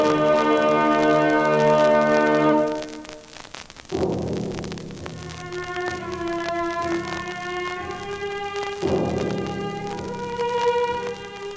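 A large church bell tolls in a European city, with slow, heavy strikes and long ringing overtones that decay between blows, loud and clear with no voices.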